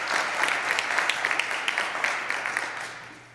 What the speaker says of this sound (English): they deserve another round of applause for the work that they will do